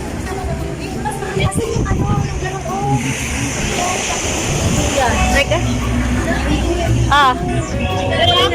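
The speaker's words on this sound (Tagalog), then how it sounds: "oh, lakas ng alon." Strong ocean waves roll and wash at Tambobong Beach in Dasol, Pangasinan, a loud broadband surge with wind buffeting, heard beneath nearby people talking.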